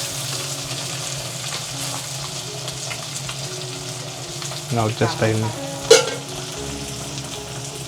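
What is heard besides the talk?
lepa fish frying on a tawa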